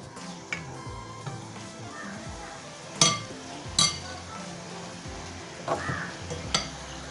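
Boondi batter for laddu dropping through a perforated ladle into hot frying oil: a low steady sizzle broken by a few sharp metallic clinks of the ladle, close and fairly quiet.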